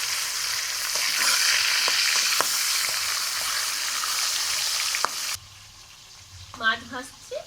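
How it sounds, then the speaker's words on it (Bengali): Salted rohu fish frying in white oil in a kadai, a close steady sizzle with a few sharp pops and crackles, cutting off abruptly before a brief burst of talking at the end. "আমি কড়াইতে সাদা তেল দিয়ে মাছটা ভেজে নিচ্ছি।"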